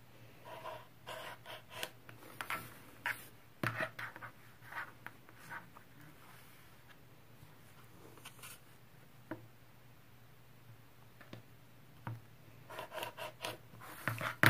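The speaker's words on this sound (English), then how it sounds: "So now we can go ahead and cut apart our triangles right on the line that we marked from corner to corner." Scissors or a cutter slicing through fabric half-square triangles for a T-shirt quilt, quiet intermittent scraping and snipping strokes in short bursts with pauses, close and faint.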